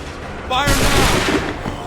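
A musket volley roars out in Assassin's Creed 3, a broad burst of gunfire lasting about a second with shouted commands faintly beneath it.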